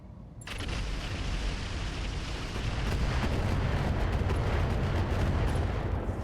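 Sustained rumbling barrage of LRM missile explosions in the mech combat video game RogueTech, starting abruptly and continuing loud and dense throughout, with no talk.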